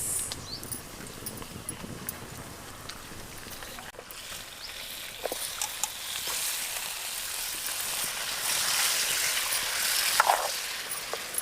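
Chicken leg pieces sizzle in a turmeric-seasoned pan with a continuous crackling fry, scattered pops and stirring clicks, growing louder and denser toward the end.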